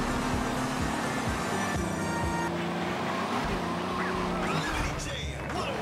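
A car driving in the video game GTA Liberty City Stories, with a steady engine drone and road noise running continuously throughout, under light game sound effects.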